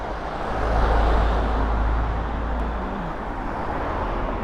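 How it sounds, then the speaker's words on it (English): Cars and traffic roll past on the Royal Mile's Canongate in Edinburgh, a steady broadband roar that swells slightly and holds, with no clear gaps between vehicles. "I'll just wait till the cars go by"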